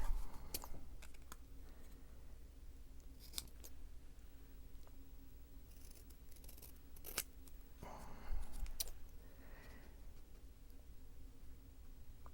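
Corners of flowery paper being cut down with scissors for a junk journal, faint quiet snips and small papery handling clicks scattered over a low room hum, close by.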